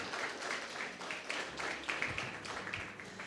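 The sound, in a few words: church congregation applauding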